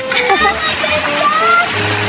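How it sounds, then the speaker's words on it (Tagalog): Water at a waterfall rushes and splashes steadily and loudly as a broad, constant wash, with voices and excited exclamations over it. "Lakas ng tubig!"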